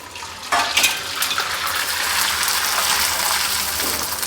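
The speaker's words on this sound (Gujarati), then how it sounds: "ચકરી તળવા માટે તેલ ગરમ કરી લીધું છે. ચકરી તળી લેશું." Tomato sabudana chakri drops into hot oil with a sudden loud sizzle that settles into a steady, dense bubbling hiss of deep frying, close and alone.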